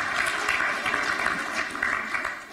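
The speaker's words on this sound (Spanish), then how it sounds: "Un aplauso, por favor, para nuestro moderador" Audience applause for a moderator at the closing session of a Spanish-language event, with steady clapping filling the room at moderate loudness for a few seconds.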